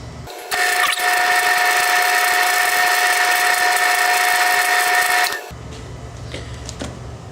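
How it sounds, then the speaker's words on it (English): A lathe runs slowly in back gear at about 50 RPM. It starts with a loud, steady mechanical whine and drone that holds for about five seconds, then drops back to a quieter hum. "I'm going to slow it down even further by putting this in back gear. And we're going to slow this down to somewhere around 50 RPM."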